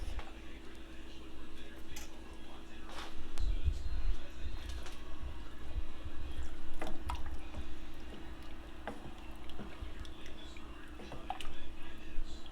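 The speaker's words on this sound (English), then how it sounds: "I'm gonna add some more broth to it, and then I'm just gonna let it simmer." Giblet gravy with added broth simmers in a pan, making faint soft bubbling pops and drips against a quiet kitchen background.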